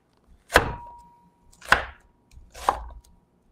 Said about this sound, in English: I'm just going to slice these up